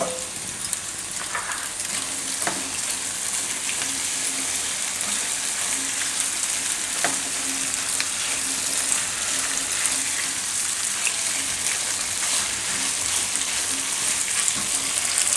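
Pasta and cooked rice sizzling and frying together in a pan, a dense, steady crackling hiss that continues unbroken at moderate loudness throughout.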